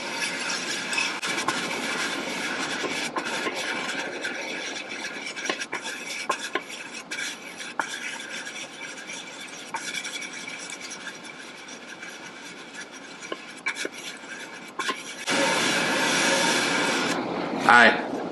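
Continuous rubbing, rasping friction of a bearing race being lapped on a 1958 Harley-Davidson Sportster engine, steady and close, swelling louder near the end.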